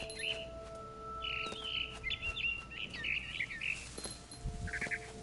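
A barn swallow chirps in repeated bright, short bursts in a video game scene, over a steady low hum and soft rustling ambience, the calls clustered through the middle and again near the end.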